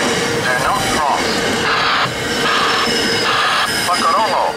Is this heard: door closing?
no